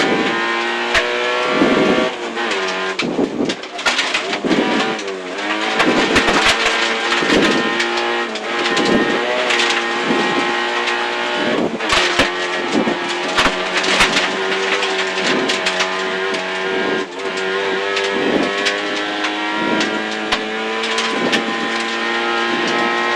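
A rally car engine revs hard through a curve, its loud, harmonic-rich engine note rising and falling through gear changes, with sharp crackles and bangs cutting in, close and dominant throughout.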